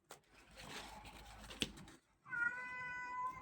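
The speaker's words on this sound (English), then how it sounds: "Oh, hello, cat." A house cat meows clearly at close range in a quiet crafting room, several drawn-out tonal meows arriving in the second half after a brief patch of soft handling noise.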